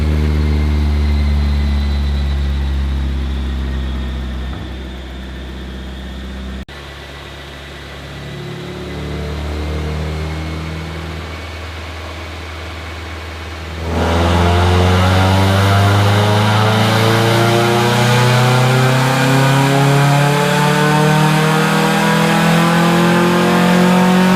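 A Mazda NB Miata-engined Exocet runs on a dyno, starting with a deep idle and low rumble before the engine revs up into a loud, rising pull that climbs steadily in pitch and stays strong to the end.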